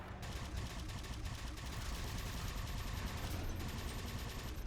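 A plasma turret fires at Banshees in Halo 4, a dense, rapid, continuous burst of gunfire that stays loud and steady for the whole stretch, with no pauses.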